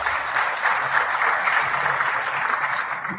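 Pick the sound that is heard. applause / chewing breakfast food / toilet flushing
applause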